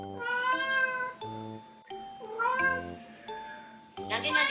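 A lonely house cat cries out while its owner bathes, giving about four or five loud, close meows in an uneven run with brief gaps between them, and one sharper, higher call at the end.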